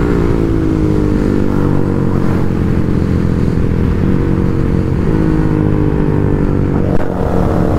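Tuned KTM Duke 390 and Royal Enfield GT 650 motorcycles drag racing on a track: a loud, sustained engine drone close by with layered harmonic whine and wind rumble, steady across the whole stretch without any speech.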